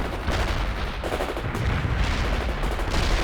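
Gunfire and explosions from the World in Conflict game, with dense rattling bursts and booms going continuously, moderately loud, with no voices.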